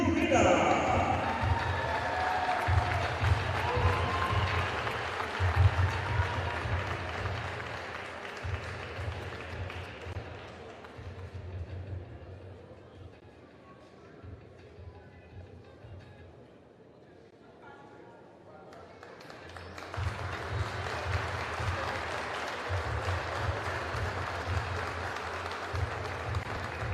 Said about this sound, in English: clap it up for Carlos Urena